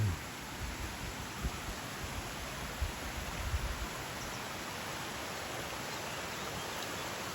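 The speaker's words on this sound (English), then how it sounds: "This is waterfall." A waterfall on a mountain lake tour in the Lake District gives a steady, broadband rush of falling water that holds an even level throughout, with no voices over it.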